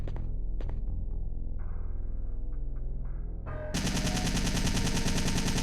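Rapid automatic gunfire from the Resident Evil 3 video game, a dense continuous burst that grows louder and fuller partway through over a steady low game hum, with no talking.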